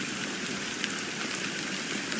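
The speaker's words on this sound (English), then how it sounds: "how long has this rain been going on for?" Continuous rainfall in Honkai: Star Rail's Penacony, a soft, unbroken wash of drops with a few faint taps standing out, steady from start to finish and free of speech.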